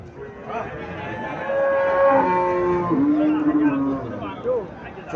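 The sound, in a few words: Holstein Friesian cow at cattle market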